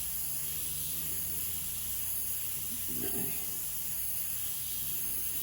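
Airbrush hissing steadily as it lays down light dagger strokes of paint to render loose hair, a continuous soft airy spray with a brief stronger burst partway through.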